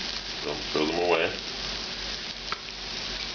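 Bacon sizzles and fries in its own rendered fat in a pan, a steady crackling hiss with a brief stir or scrape partway through and a faint click near the end.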